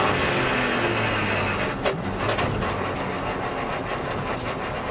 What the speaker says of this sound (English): You could even hear the brakes there